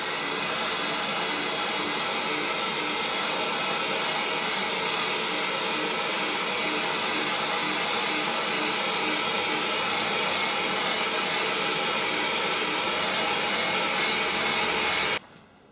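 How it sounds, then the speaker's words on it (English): A small old hair dryer blows steadily while drying a freshly made printed circuit board, a loud, even whooshing hum running continuously for about fifteen seconds before switching off. "we'll just give it a quick dry with a little old hairdryer I use here"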